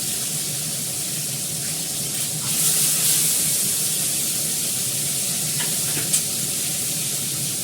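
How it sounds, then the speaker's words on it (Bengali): Fish fry in hot oil with a steady, close sizzling hiss that swells briefly and then settles, broken by a couple of small pops. "এবার মাছগুলো ভেজে নিচ্ছি, মাছের তেল কেটে গেছে।"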